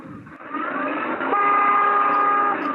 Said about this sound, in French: Est-ce que vous pouvez accélérer et en même temps klaxonner?